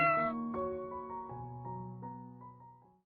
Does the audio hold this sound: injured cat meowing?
yes